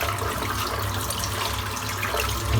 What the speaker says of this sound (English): I'll just rinse the soap off